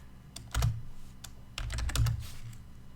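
Keys clatter on a computer keyboard as a terminal command is typed, a few quick bursts of clicks with short pauses between them, close and fairly quiet.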